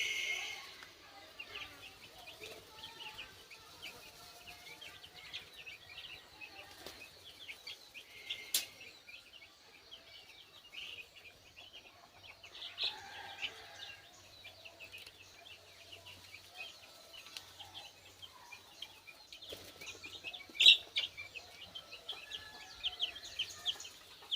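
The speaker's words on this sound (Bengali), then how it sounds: "এগুলো হচ্ছে টাইগার মুরগির বাচ্চা" Tiger breed chicken chicks in a poultry house, a steady high chorus of thin peeping and cheeping running throughout at low level, with a faint hum underneath and occasional sharper calls standing out.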